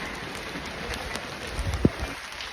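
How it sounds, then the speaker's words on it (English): Rain falls steadily on the way to Hallstatt, a continuous soft hiss with faint patter and one brief low thump near the end, no voices over it. "It's raining."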